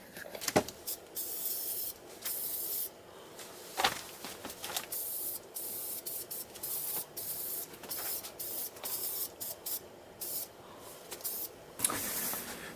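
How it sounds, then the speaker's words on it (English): Aerosol spray paint hissing in repeated bursts of varying length, close by, as a large Lego-built head is painted, with short pauses and faint rattles between sprays. "I'm going to hit this with some spray paint"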